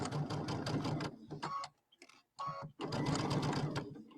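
A sewing machine stitching a quarter-inch seam through quilting fabric, fast rhythmic clatter in close bursts that stop briefly and restart loudly, with no talk over it.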